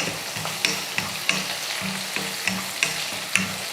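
Small whole onions and curry leaves sautéing in a pan: a bright, steady sizzle broken by regular scraping stir strokes about every third of a second. Close and alone, with no voices.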